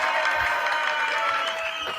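Recorded crowd cheering and applause played back from a phone soundboard, a steady dense wash of clapping and cheers held at an even level throughout.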